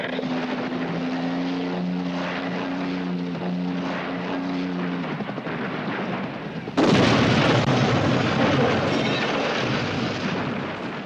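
A helicopter in a film crash scene: a heavy, roaring rumble with a low droning hum gives way to a sudden louder, harsher blast of noise that continues steadily to the end.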